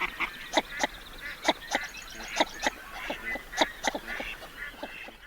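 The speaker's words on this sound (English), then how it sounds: "the northern shoveler has a different sounding call." A northern shoveler duck gives a run of short, nasal, evenly spaced "suk" calls, close and clear, repeating a dozen times with quiet gaps between.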